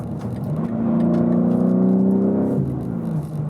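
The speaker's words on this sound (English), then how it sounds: "I just love the way the car accelerates though." A 2022 BMW G80 M3 accelerates hard from inside the cabin, its engine note climbing steadily in a rising, close whir before easing off near the end, with no talking over it.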